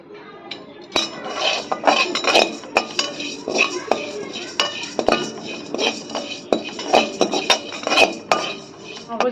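Melon seeds dry-roast in a hot kadai on a gas stove, stirred with a metal utensil that scrapes and clinks repeatedly against the pan in quick irregular strokes, close and fairly loud.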